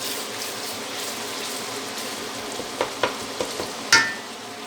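Softened tomatoes frying in a pan for cauliflower sabzi give a steady low sizzle, broken by a few faint stirring scrapes and a sharper clink near the end, with no voices.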